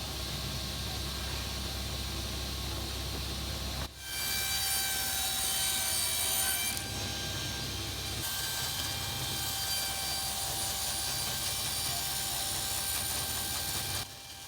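Power saw ripping through a 12mm MDF sheet, a loud steady broadband whine running almost unbroken for over ten seconds with a brief dip at the start and end.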